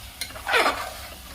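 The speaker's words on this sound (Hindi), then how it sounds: "दोस्तों इसे मैं मीडियम फ्लेम पर भूनूंगी" Green peas for a Bihari godla roasting and being stirred in a pan over a medium flame, a single short scraping sizzle swell with a light clink just before it, close and alone.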